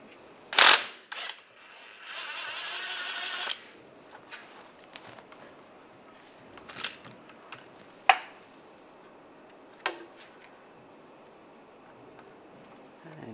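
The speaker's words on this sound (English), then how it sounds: "Now we're going to take the bolts out of the inboard side of the axle" A ratchet fitted with a triple square M8 socket works loose the inboard CV axle bolts on a 1999-2005 Volkswagen Jetta, giving a few short, separate clicking bursts with quiet gaps and faint shop noise between them.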